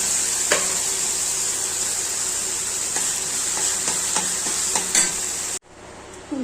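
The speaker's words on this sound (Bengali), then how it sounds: "এখানে হচ্ছে ডালটাকে অল্প অল্প করে দেবো।" Soaked chana dal hits a hot pan of spiced oil with red chilli and coriander powder, sizzling loudly and steadily while a spatula scrapes and stirs in a few sharp clicks before the sound cuts off abruptly.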